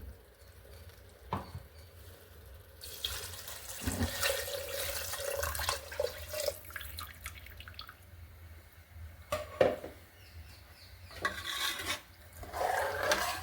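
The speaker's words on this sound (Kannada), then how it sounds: "ಅದು ಮಿಕ್ಸಿ ಮಾಡಿ ಇಟ್ಕೊಂಡಿದ್ವಲ್ಲ ಆ ಜಾರಿಗೆ ಒಂದು ಸ್ವಲ್ಪ ನೀರು ಹಾಕ್ತಿದ್ದೀನಿ" Water poured from a tap into a mixer grinder jar while making methi bath, with a steady running stream, brief clinks and splashes, close and moderately loud.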